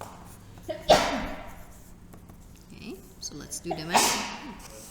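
A person sneezes during a math tax-calculation lesson, two sharp bursts about three seconds apart, loud and close, with talking between them.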